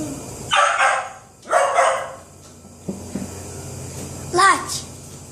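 A dog barks a few times in a home play setting, in short bursts separated by pauses, close and fairly loud, while children talk and play nearby.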